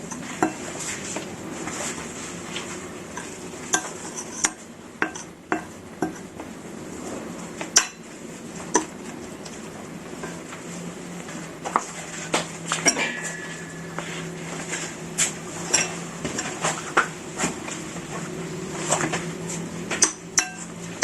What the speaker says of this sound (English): After you mix the margarine, the milk, and the biscuit